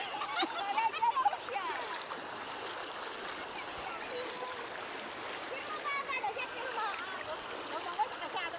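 People wade across a river in the early morning, water splashing and gurgling steadily around them while several voices chatter over the flowing stream.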